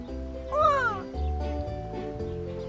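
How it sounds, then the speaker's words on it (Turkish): A cartoon cat gives a single rising-and-falling meow, clear and close, followed by lower voiced sounds with steady background music. "Çok dost canlısı bir kedi."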